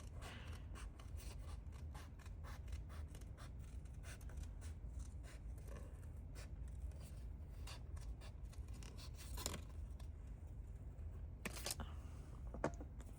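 Small scissors cutting around stickers on a paper tag: a long, steady series of quick, crisp snips close by, with occasional paper rustles and louder clicks near the end.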